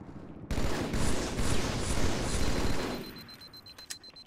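Gunfire from a video game crackles in a dense, loud burst of rapid shots lasting a few seconds, then cuts off into quieter scattered shots and game ambience.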